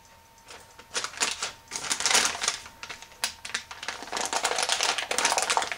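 Freezer paper crackling and tearing as it is peeled off freshly cut bars of handmade column-pour soap, a close, dense run of crinkly rips that swell and fade in bursts with no talking.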